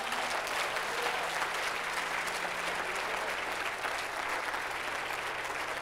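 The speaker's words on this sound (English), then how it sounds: "Let's clap for him more and more." Church congregation clapping in praise during a worship service, a dense, continuous wash of applause filling the room at moderate volume with faint voices underneath.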